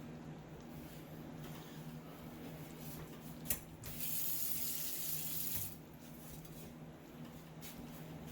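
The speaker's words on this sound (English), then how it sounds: "I'm going to drain them and then add them to the sauce." Cooked noodles are poured out to drain into a kitchen sink, a steady rush of water swelling for a couple of seconds over a low background hum, with a sharp clank at the start, close and fairly soft.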